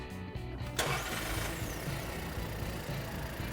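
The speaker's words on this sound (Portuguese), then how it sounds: "vamos dar partida no motor do carro" A Volkswagen up! TSI car engine is started with a short starter crank, then catches and settles into a steady, fairly loud idle hum, with no talking.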